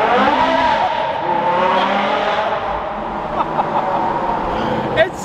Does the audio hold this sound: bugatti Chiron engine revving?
yes